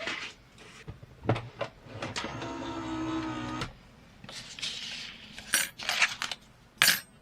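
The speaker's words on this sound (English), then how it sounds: "And run them through our dye machine." Card pieces are run through a die cutting machine for a handmade birthday card. A steady mechanical whir lasts about a second and a half, with sharp clicks and clacks of handling before and after, all close by.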